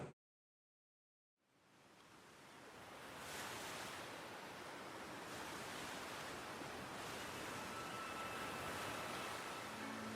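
Steady ocean surf and sea breeze wash around a schooner at sea, rising from silence into a broad, continuous roar of waves with gentle swells, wind-heavy and close.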